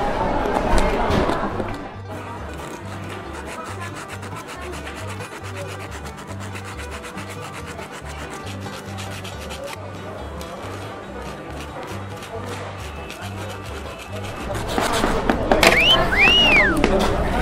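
A metal rasp scrapes the burnt crust off a hard baked Xinjiang bun in steady, rhythmic rubbing strokes, with people talking briefly at the start and end.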